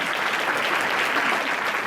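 Guests at a legislative night event clapping, a loud, close, dense burst of many hands applauding evenly for the whole moment.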